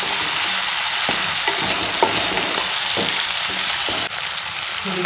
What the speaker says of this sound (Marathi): टोमॅटो, कांदा आणि टोमॅटो 1 ते 2 मिनिट तेलामध्ये परतून घेऊयात.